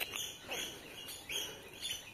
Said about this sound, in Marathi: पक्षी वन साईड आहेत.